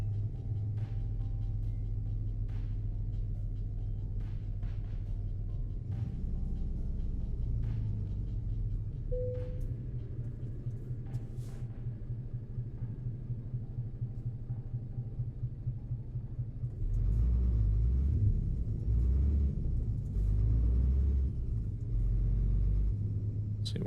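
Video-game truck engine from a sound mod, a deep steady diesel rumble with a pulsing idle-like throb, swelling louder and heavier as it accelerates near the end.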